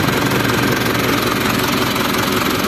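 An Isuzu 4HF1 diesel engine, semi-electronic converted to manual, runs loud and close with a dense, rough knocking rumble that holds steady throughout.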